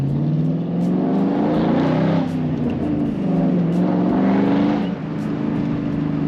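A mostly stock car engine with chopped-off mufflers and 4-inch exhaust tips revs hard in repeated surges, loud and raspy, rising and falling in pitch close by.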